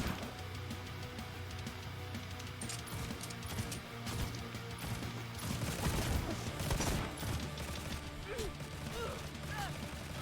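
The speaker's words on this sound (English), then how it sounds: "Plasma grenade." Plasma grenade blasts and gunfire in Necromunda: Hired Gun burst and crackle through dense combat noise, with heavy impacts swelling mid-way over a low droning backdrop.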